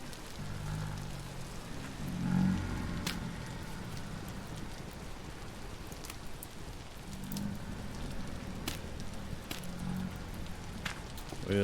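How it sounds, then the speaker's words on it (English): Steady rain patters on a hard surface, a forge roof in the video game Vintage Story, with occasional sharper drops, a continuous moderate hiss with no voices. "The rain falls on my"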